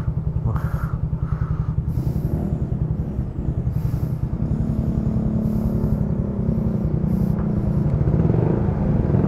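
A motorcycle engine idles loud and close beside a river, a steady rapid low chugging pulse that runs throughout, with short bursts of higher noise breaking in over it.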